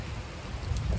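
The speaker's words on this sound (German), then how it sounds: "Für heute war eigentlich kein Regen angesagt, aber jetzt hagelt das." Hail and rain fall steadily on a boat yard, a soft continuous hiss and patter with low rumbling, heard alone and fairly faint.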